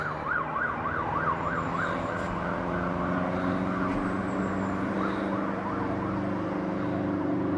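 A loud police siren wails continuously, its pitch rising and falling in a steady repeating cycle, with no talking.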